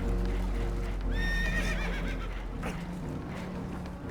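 Spooked horses neigh in a shrill, wavering whinny over steady rumbling and clattering of a damaged boat in Red Dead Redemption 2, with hoof-like knocks underneath.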